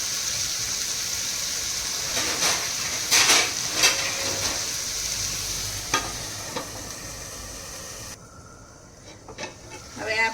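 Tomatoes for smoky baigan bharta cook in a pan over a low gas flame, giving a steady soft sizzle with occasional stirring clinks and scrapes, continuing throughout at moderate level.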